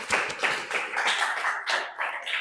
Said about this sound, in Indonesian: Semuanya kasih tepuk applause buat yang bertanya dan menjawab.